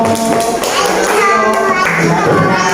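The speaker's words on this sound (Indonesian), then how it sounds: "beri tepuk tangan untuk Mas Alvino" Schoolchildren in a classroom clap for a classmate, a dense patter of hands under overlapping children's voices, loud and close.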